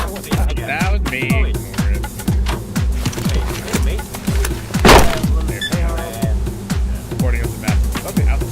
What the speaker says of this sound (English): Boarding up the bathroom